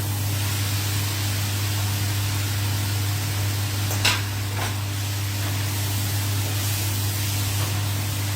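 Chicken poured into a pan of fried spice masala for chicken kosha, a steady broadband sizzle and hiss running throughout with a low constant hum beneath and a brief clatter near the middle.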